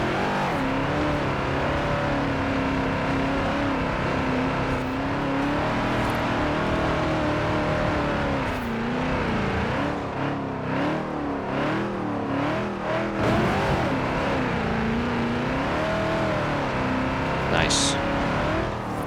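A 1973 Ford XB Falcon GT at stock tune, accelerating hard in the racing game Forza Horizon 4, its engine droning and rising steadily through the gears, loud and continuous, with a person talking over it.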